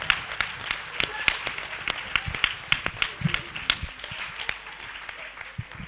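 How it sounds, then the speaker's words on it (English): An audience applauds after a Vedic story performance by Gurukul students, a steady patter of individual hand claps at moderate distance, with a voice speaking over it. "get a good clap"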